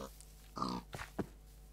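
A few short pig grunts and oinks from a pig in Minecraft's Tektopia mod, close and fairly quiet, spaced unevenly over a couple of seconds.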